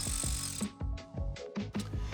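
A 12mm socket on a ratchet loosens a bolt during rock slider installation on a GX550, LC250 or 4Runner, giving a string of sharp, close metallic clicks in quick bursts.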